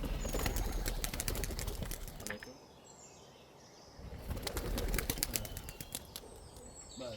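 Pigeons burst from their opened coops in a forest village in Uttarakhand, with bursts of wing-flapping close by, a brief lull, then another flurry of flapping wings and faint chirps.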